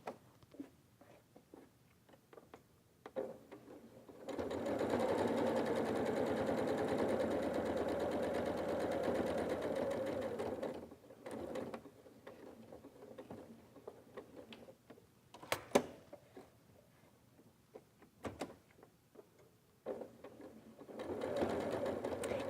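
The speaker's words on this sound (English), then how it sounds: "you'll stop with the needle down at the corners, pull up your presser foot, and then continue to stitch." A sewing machine top stitches fabric, whirring steadily for about six seconds and then starting and stopping in short bursts, with soft clicks and handling noises from pausing at corners and lifting the presser foot.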